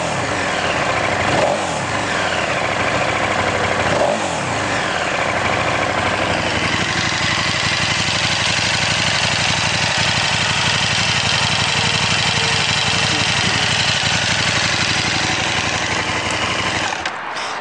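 A 2014 KTM 1290 Super Duke R motorcycle with its stock muffler idles steadily close by, a continuous even engine rumble that holds for the full length without revving.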